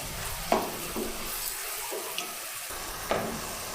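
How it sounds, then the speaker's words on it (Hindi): Tomatoes for a Pakistani tomato karahi cooking on full flame, a soft steady sizzle and bubble with a few sharp clinks of a utensil against the pan. "मैं इसको फुल फ्लेम पे ही पका रही हूँ"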